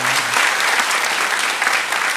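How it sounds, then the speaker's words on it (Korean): Steady applause from a church congregation at a Sunday worship service marking the church's 44th anniversary, welcoming a first-time visitor; dense, even clapping fills the room throughout the short stretch, with no talk over it. "우리 박수로 한번 환영하도록 하겠습니다."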